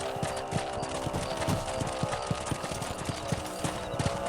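Horse hooves clop at a steady galloping rhythm in the Red Dead Redemption video game, close and continuous over a dense background of game sound.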